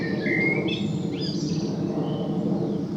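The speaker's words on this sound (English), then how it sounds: "Chiff chaff, blackbird." A chiffchaff and a blackbird sing outdoors on a countryside walk near woodland, the thin, repeated notes and richer warbling phrases sounding moderately distant over a steady low rumble of background noise.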